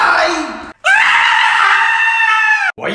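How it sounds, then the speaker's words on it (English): A person screams loudly in a small room, a short shriek followed by a long sustained high-pitched scream, then another brief cry starting at the end. "Why are you screaming?"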